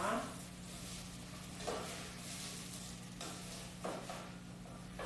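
Rice frying in a pan, a faint, steady sizzle with a few soft stirring scrapes spaced through it, low and close.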